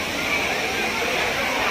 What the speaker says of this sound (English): This waterfall, Kempty Waterfall.